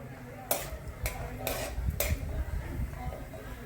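Sago pearls being lightly fried and stirred in a pan for sabudana kheer: four sharp scraping strokes of a spoon against the pan, close and clear over a soft, low background.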